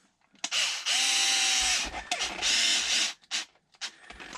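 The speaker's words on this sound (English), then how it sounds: "I'm going to go nice and easy with it with the driver" A power driver spins in short controlled bursts, driving a small screw into a homemade XRT build, the whirring motor starting and stopping several times at close range.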